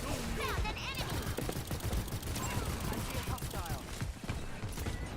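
Rapid gunfire and game effects from a competitive Overwatch match, continuous and dense throughout, with a voice talking over the action.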